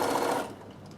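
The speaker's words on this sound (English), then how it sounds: "make sure your needle stop down function's on once again so that the needle is going to stop down in the work" Sewing machine stitching a fabric Christmas table runner with the needle-stop-down function on, a short close burst of fast whirring stitches that cuts off and leaves a quieter hum.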